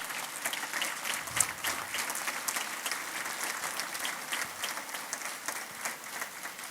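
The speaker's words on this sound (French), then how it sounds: "ça prendrait pratiquement une main d'applaudissements" Audience applause fills a 30th-anniversary tourism grand prix awards gala, a dense, steady wash of many hands clapping at moderate distance with no break.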